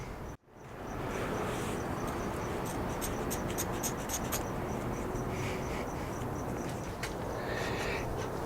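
A blade cuts at an angle through bicycle handlebar padding, a close, continuous rough scraping and rasping with a few brief squeaky ticks after an initial short thump.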